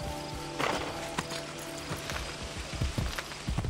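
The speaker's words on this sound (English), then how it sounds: "Horsey." A horse in Assassin's Creed Brotherhood clip-clops along at a quick, uneven pace, its hooves thudding close and fairly loud against a faint game background.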